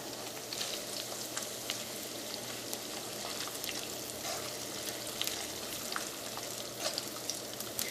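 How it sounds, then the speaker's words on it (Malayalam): Steady, crackling sizzle of small coconut pieces frying in hot coconut oil, with scattered pops throughout and no voices. "നമുക്ക് തേങ്ങക്കൊത്ത് ഇട്ടിട്ട് ഒന്ന് വറുത്തെടുക്കാം"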